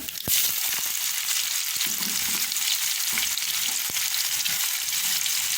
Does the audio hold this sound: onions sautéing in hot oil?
yes